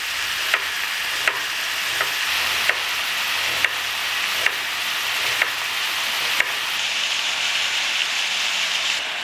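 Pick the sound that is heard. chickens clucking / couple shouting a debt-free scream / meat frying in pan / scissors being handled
meat frying in pan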